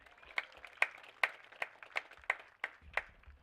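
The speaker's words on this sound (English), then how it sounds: "Please give our umpires a round of applause for tonight's game." Sparse, rhythmic claps, about nine distinct hits, from a small crowd applauding the umpires at a varsity softball game, faint and slightly distant with no talking.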